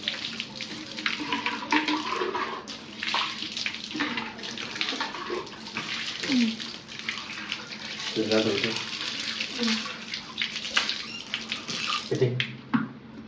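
Water filter parts are washed under a running tap, a steady splashing flow with intermittent clatters and handling noises, while people talk now and then over the water.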